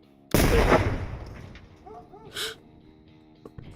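A wall breaching charge detonates in Door Kickers 2 with a sudden loud, close blast and a decaying rumble, followed by scattered debris sounds and a short burst of smaller noise.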